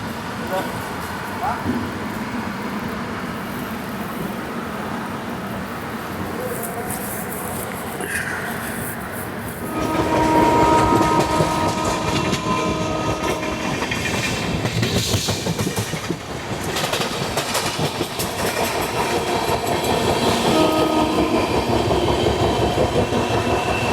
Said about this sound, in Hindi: हमारी ट्रेन निकली है दौंड कॉर्ड लाइन से